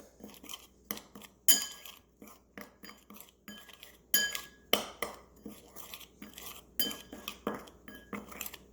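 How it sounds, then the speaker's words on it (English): Curry chicken seasoning stirred together in a bowl with a metal utensil, sharp clinks and scrapes against the bowl in a brisk irregular rhythm, close and alone with no talk. "Now, I'm going to mix this all together."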